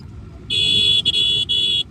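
A car passes on a winding mountain ghat road between Pune and Nashik, sounding three sustained horn blasts in quick succession over a low road rumble, loud and close.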